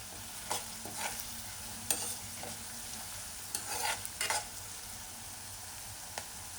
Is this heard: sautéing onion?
yes